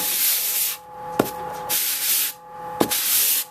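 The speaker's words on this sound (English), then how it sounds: "Wrap a piece of sandpaper around it, and just sand that down" Sandpaper wrapped around a wooden block rubbed over dried filler on a repaired wall hole, long rasping back-and-forth strokes in a steady rhythm with brief pauses and a couple of sharp knocks, close and loud.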